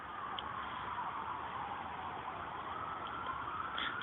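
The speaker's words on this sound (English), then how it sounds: "sirens in the background." A faint siren wails in the distance, its tone rising and falling steadily under a hiss of background noise.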